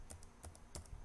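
Soft, quiet keystrokes on a computer keyboard as a database password is typed, a quick irregular run of about six or seven clicks.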